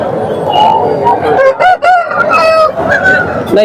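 At the Kundarlapalli hen market, chickens and roosters crow and squawk loudly and close by, with overlapping harsh calls in a dense, continuous chorus.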